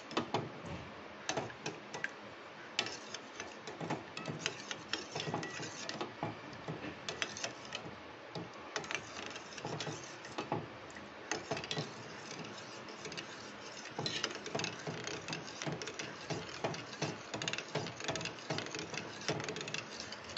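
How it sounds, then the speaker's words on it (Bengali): A panna cotta mixture is stirred steadily in a pot on a lit gas stove, giving continuous soft scraping and ticking taps of the spoon against the pot throughout, fairly quiet and without talk. "এবার আমি এটা সমানে নেড়ে যাব।"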